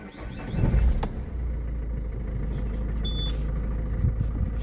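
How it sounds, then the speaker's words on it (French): A car with a faulty electric power-steering module starts up; a loud clunk is heard as the engine catches, then a steady, close idle continues with no talk. "On fait une mise en route. On a un gros clac dans le volant."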